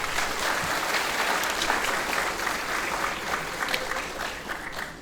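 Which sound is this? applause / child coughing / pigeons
applause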